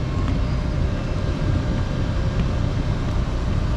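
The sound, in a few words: Panama Canal locomotives pulling a ship through the lock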